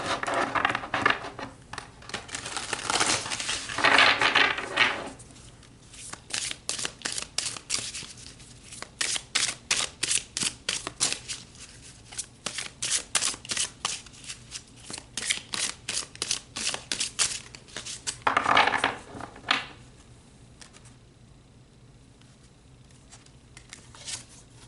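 A deck of tarot cards being shuffled and drawn, with bursts of riffling and a long run of rapid, even card flicks, close and fairly loud, then a softer slide as cards are pulled, no voice.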